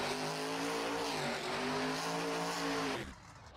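A monster truck spins donuts during a freestyle run at Bridgeport Speedway, its engine roaring steadily with a rising and falling revving pitch for about three seconds before cutting off abruptly.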